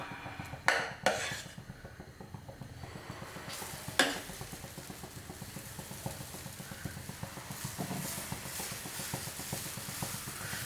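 Dosa batter spread on a hot dosa tawa for crispy Kerala-style masala dosa: a few sharp metal clinks of a ladle against the pan, then a soft steady scraping and faint sizzle, close and quiet, with no talk.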